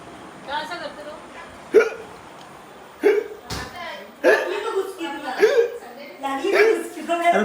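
Repeated sharp hiccups burst out at irregular intervals, loud and close, mixed with chuckles and people talking during a family birthday gathering.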